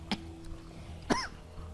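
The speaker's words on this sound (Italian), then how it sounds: "Colpo di tosse" Two short coughs from a person, a few sharp bursts separated by a quiet pause, close and fairly soft, with a faint steady tone from a video game playing underneath.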